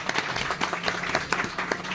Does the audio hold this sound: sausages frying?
no